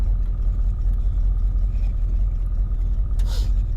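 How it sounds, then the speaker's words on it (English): A 1968 AMC Javelin, abandoned for 37 years and needing carburetor work, idles in park with a steady low rumble for the whole stretch, close and even, with a brief faint clatter near the end. "Actually has a really good idle"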